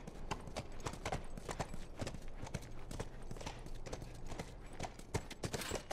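Horse hooves clopping in a steady walking rhythm in the video game The Last of Us, crisp, close repeated footfalls with no talking.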